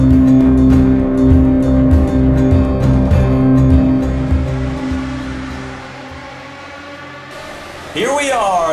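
Race car engines roar steadily in NASCAR '15 at Indianapolis, a loud continuous drone with shifting pitch as cars pass, fading slightly before a sharp whine near the end.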